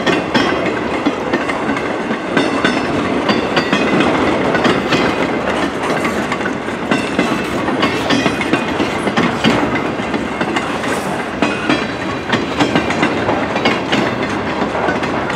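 A CN westbound local grain freight train, led by CN locomotive 5462, rolls past close by, with a loud, steady rumble and rhythmic clickety-clack of wheels over rail joints lasting throughout.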